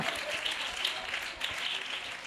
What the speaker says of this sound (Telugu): అందరం చప్పట్లు కొట్టి కొద్ది నిమిషాలు దేవుని నామాన్ని మహిమపరుద్దామా